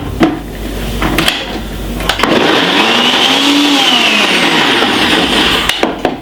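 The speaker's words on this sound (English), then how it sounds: "I'm just gonna be blending this about 2 seconds." A kitchen blender whirs continuously for several seconds, blending a mixture made with red label wine; the motor spins up after a few clicks and holds a loud, steady drone before cutting off.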